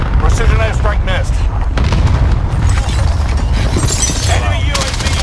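Loud cluster airstrike explosions rain down in Warzone as a string of heavy booms rolls on, overlapping with no break, while players talk over the blasts.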